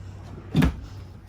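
A single soft thud of a large drawer sliding shut inside a 2014 Work & Play toy hauler RV, brief and fairly close in a quiet room.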